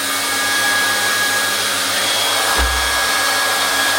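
A hot air plastic welding gun used freehand with no speed nozzle blows a steady, loud airy hiss with a faint high whine, briefly thumping at one point but otherwise constant and alone.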